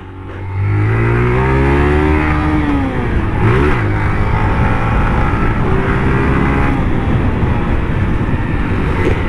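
A new motorcycle's engine starts up, then runs and revs in a steady close drone, with one rising and falling rev partway through.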